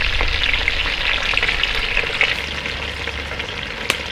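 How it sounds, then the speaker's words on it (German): Chicken pieces fry in a Dutch oven with a dense, steady sizzle and crackle, close and continuous, with occasional sharper pops and no voices. "Jetzt werde ich die Hähnchenteile mal umdrehen und von der anderen Seite anbraten."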